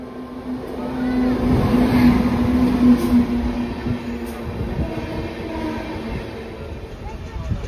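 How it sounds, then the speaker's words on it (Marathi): A passenger train on the adjacent track at an Indian railway junction rumbles and clatters close by, a steady mechanical roar with a sustained tonal hum, carrying on for several seconds with faint background voices. "तर हीच ट्रेन योगनगरी ऋषिकेश म्हणून देखील शिफ्ट होते, तर ती बाजूलाच आहे."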